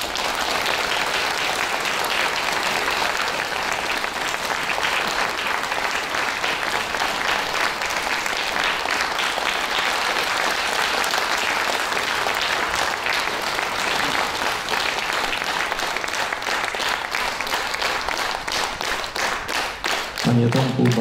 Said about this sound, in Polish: Wielkie brawa także dla Tomasza.